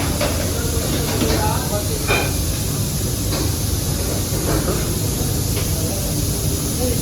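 A pressure cooker in a dhaba kitchen hisses loudly and continuously as it releases steam. The hiss stays steady throughout, with a voice speaking over it.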